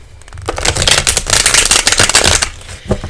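A tarot card deck is shuffled close up in one steady, continuous rustle and flutter of cards lasting a few seconds, followed by a few softer taps, with no talking.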